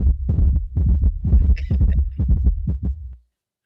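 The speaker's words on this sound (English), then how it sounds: "Heartbeat." A heartbeat sound effect thumps in a steady series of deep paired beats, loud and close, running for about three seconds before cutting off to silence.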